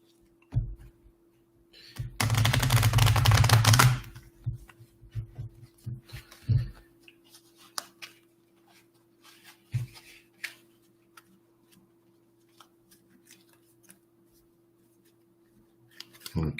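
Playing cards are riffle-shuffled in one dense, fluttering burst lasting about two seconds, followed by scattered soft taps and clicks in a quiet room.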